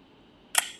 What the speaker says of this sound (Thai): นี่เสียงชัตเตอร์เป็นไงโ